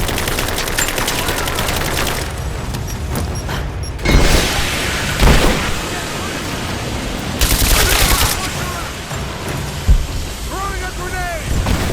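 Rapid automatic gunfire rattles through a firefight in Rise of the Tomb Raider, loud and sustained with heavier booming bursts and shouting voices mixed in.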